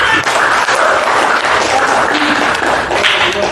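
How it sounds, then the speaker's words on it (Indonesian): A group claps in a loud, continuous burst of applause during a class session, dense and sustained for several seconds with some voices underneath. "Tepuk tangan."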